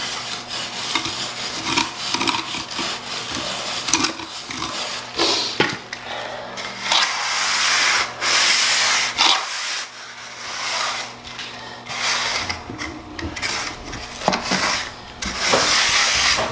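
A trowel scrapes and smooths a mortar mud screed bed in a tile shower, giving a steady gritty rubbing rasp with repeated strokes and short pauses, close and fairly loud, with no talking.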